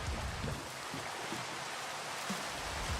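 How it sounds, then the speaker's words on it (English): Steady Minecraft rain hisses as a soft, even wash of broadband noise, with no other sounds and no break across the whole stretch. "Oh, it's a-raining."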